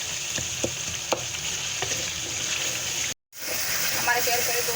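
Spice masala roasting in oil in a pan for a chana dal and lauki curry, giving a steady close sizzle with occasional stirring scrapes and a brief dropout partway through.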